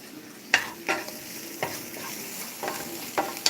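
Onions being sautéed in a pan on a home stove, a soft steady sizzle broken by several sharp scraping stirs at irregular intervals, fairly quiet and close.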